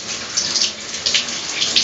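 Water runs steadily from a shower head during a hair-washing session, a close, even hiss of spray with slight splashy bursts and no voices.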